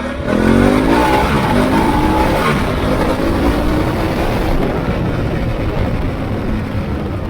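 A Harley-Davidson Pan America's V-twin motorcycle engine revs and accelerates steadily, loud, its pitch rising as it pulls away, with rushing wind noise throughout and no talking.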